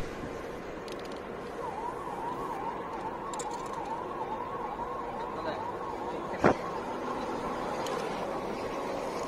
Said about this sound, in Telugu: ఇది రాసే టైంకి ఒక సైరన్ కూడా వచ్చింది